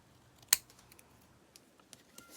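Scissors cutting through a sticker, a single sharp snip followed by a few faint small clicks, close and quiet.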